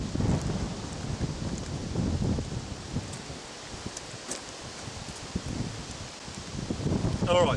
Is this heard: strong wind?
yes